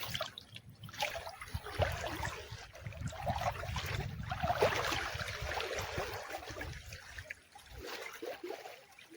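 A village river flows nearby with soft, uneven trickling and gurgling water at a low level, steady throughout.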